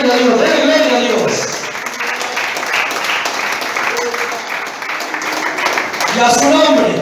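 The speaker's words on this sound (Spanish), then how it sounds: "Aplaudan conmigo." Church congregation applauding in rhythm during a worship service, a steady dense wash of clapping throughout with voices singing and speaking over it.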